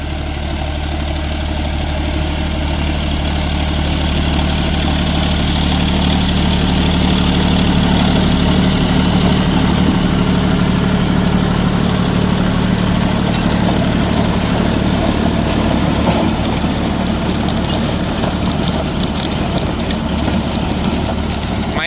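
A John Deere 5050D 4WD tractor with its engine running a Shaktiman Champion rotavator through the PTO, a steady low diesel drone with continuous mechanical rumble and vibration, close and loud throughout.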